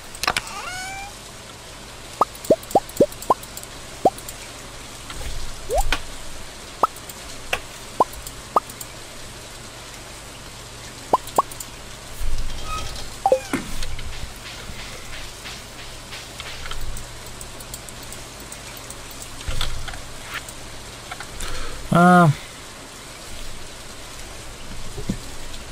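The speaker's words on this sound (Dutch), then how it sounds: "het regent vandaag nog steeds" Steady patter of rain in the farming video game Stardew Valley, with scattered sharp droplet plops and clicks over a soft continuous hiss.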